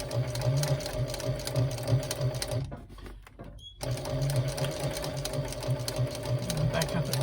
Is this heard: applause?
no